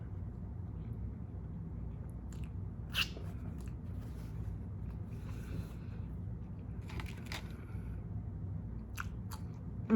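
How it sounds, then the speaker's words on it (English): Someone bites into and chews a bologna and honey turkey sandwich with tomato and avocado, making quiet, close mouth sounds with a few sharper crunchy bites over a low background hum. "So I'm gonna just take a bite because I'm starving."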